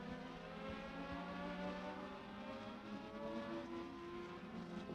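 Legends division race cars at Beckley Motor Speedway drone past with steady, high-revving engines, several cars running close together in a sustained, layered roar that shifts in pitch as they move.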